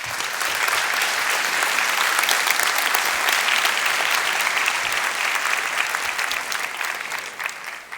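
Audience at a University of Washington bioengineering commencement claps steadily for a keynote speaker taking the podium, dense sustained applause that fills the hall for several seconds before easing slightly at the end.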